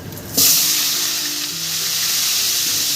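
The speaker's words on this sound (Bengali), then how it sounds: "এবারে আমি সজনে ডাটাটা ভেজে নেবো" Moringa drumsticks hit hot oil and burst into a loud, steady sizzle that continues to the end while being fried for a Bengali shukto.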